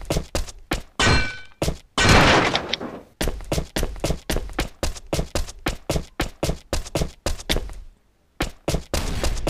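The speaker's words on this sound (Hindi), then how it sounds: "शॉटगन के बुलेट्स की आवाज़ आई मेरे को" Shotgun blasts in the survival video game Last Day Rules Survival fire as a rapid series of sharp, loud reports, one after another with brief gaps.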